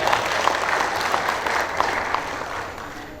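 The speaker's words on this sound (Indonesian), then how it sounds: "Tepuk tangan semuanya." Audience applause at an Indonesian Gerindra party gathering in West Java, a steady patter of clapping lasting a few seconds, moderately loud, then thinning out at the end.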